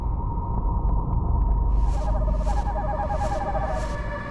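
A repeated low owl hoot pulses four or five times over a constant deep rumble in a dramatic mythological setting, fairly prominent but blended into the dense background.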